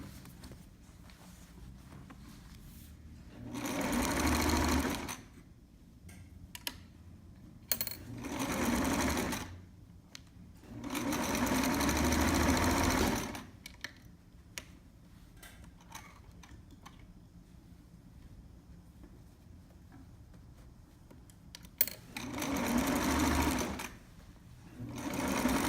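A sewing machine runs a half-inch basting stitch on a trapper hat in four separate stretches of steady whirring, with quiet pauses and small clicks in between.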